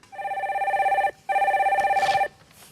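A telephone rings for an incoming call to a studio broadcast line, two electronic trilling bursts separated by a brief pause, clear and fairly loud with no talk over it.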